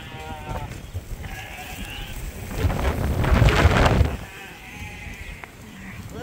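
Sheep bleating repeatedly as they leave the barn on a farm, several calls overlapping near and farther off, with strong wind buffeting the microphone through the middle.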